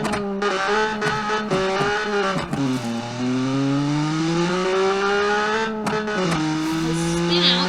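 A car in the Automation driving game accelerates and changes gear with a sustained engine tone that dips and recovers, with faint skidding as it loses grip and spins out.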